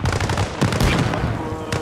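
Rapid automatic gunfire and sharp blasts around a burnt-out tank in the military shooter Arma Reforger, on a road in Helmand Province; loud, close bursts of shots crackle in quick succession with no pause.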